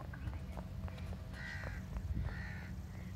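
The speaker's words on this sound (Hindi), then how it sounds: "वहाँ पे एक पक्षी भी है। पक्षी? हाँ वो देखो चीख रहा वो देखो।" A crow in an orange orchard in Punjab, Pakistan, gives several harsh, screeching caws in quick succession over a low steady background rumble.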